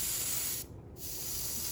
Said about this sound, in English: very lightly start spraying this all over